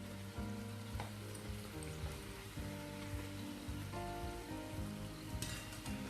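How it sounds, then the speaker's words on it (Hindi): Pani puri dough rounds frying in hot oil, a steady dense sizzle with crackling bubbles throughout, close and fairly loud, with occasional brief clinks and no talking. "जो निचला हिस्सा रहता है पूरी का वो हमें ज़्यादा देर तक उसको फ्राई करना रहता है"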